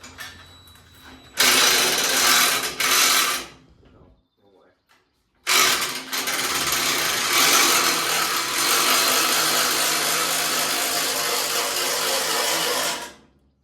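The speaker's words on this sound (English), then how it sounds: "let's see what happens when Alex is going to try and jack it up" A 1972 Aston Martin AM V8 is jacked up in a workshop. Two short, loud bursts of ratcheting mechanical noise come first, then after a brief pause a longer, sustained stretch of clattering mechanism close by.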